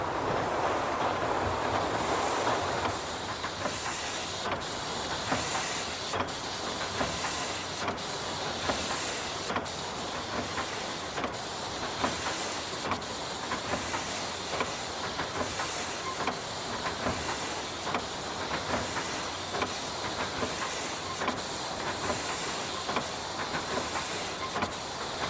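A 2,500 horsepower steam mill engine runs with a steady hiss and rushing wash of sound, a faint rhythmic chuffing pulsing beneath it, constant and moderately distant for the whole stretch.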